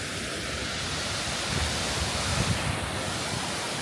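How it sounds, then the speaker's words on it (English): A fairly big waterfall at Thousand Springs, Idaho, pours steadily as a broad, continuous roar of rushing water, heard close and unbroken with no voices. "And over here, we've got this huge waterfall."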